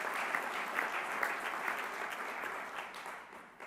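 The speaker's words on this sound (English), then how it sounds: "So a round of applause for the membership of this conference" A conference audience at an annual mayors' meeting opening plenary claps in a sustained round of applause, dense and even, tapering slightly toward the end.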